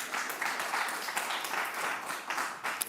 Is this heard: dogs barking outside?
no